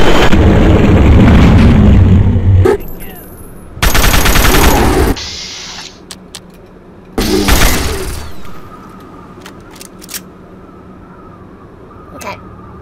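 Gunfire in the video game Fallout 3 comes in several loud, dense bursts of automatic shots separated by quieter gaps, followed by a few isolated sharp cracks.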